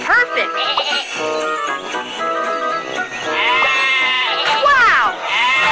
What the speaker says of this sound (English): Just drag the sheep and drop them in their pen.